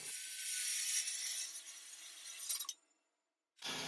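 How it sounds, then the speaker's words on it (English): A circular saw cuts wood guided along a clamped fence while building a small desk stand, a steady bright whine of blade through timber for nearly three seconds, then a pause before it resumes. "So I went at it with about my last choice, a circular saw and a clamped fence."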